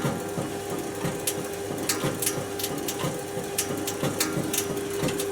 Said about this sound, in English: So the drum's hitting the motor